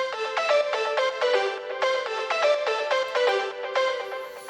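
A plucked synth lead from an Ableton stock plugin preset plays a bright, repeating melodic phrase of short, evenly spaced notes with rich harmonics, up close and alone.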